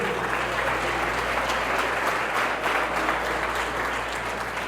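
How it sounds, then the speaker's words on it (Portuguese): A church congregation applauding during a celebration service, steady loud clapping from a large crowd filling the room. "Pode aplaudir o Senhor mesmo."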